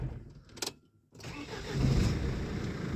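A 2004 Mercedes Sprinter van that won't start, with fuel pressure not building, cranks after a brief pause. The engine turns over with a loud, rough, continuous churn that swells and holds steady close by.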